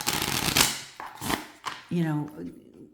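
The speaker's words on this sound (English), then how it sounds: "it shuffles beautifully, just like all their other decks" An Artisan Tarot deck of Paris-portrait playing cards is riffle-shuffled in quick bursts of crisp fluttering, close by, with a voice speaking over and between them.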